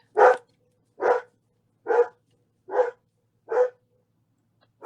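A dog barks five times indoors at a steady, evenly spaced rhythm, each bark loud and close with quiet gaps between, while someone works on a dahlia mesh wreath nearby.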